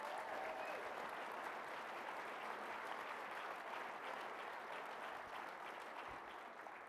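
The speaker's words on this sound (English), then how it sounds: "How about a big round of applause for all of our winners this evening" Sustained, dense applause from an audience at a podcast awards ceremony celebrating the winners, even and unbroken throughout, fairly faint and distant.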